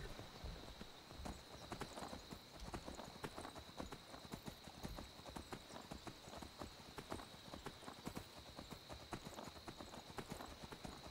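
Horse hooves clip-clop steadily in the video game Skyrim, a continuous, even trotting rhythm of close, distinct hoofbeats over a faint high tone, with brief murmurs of voice.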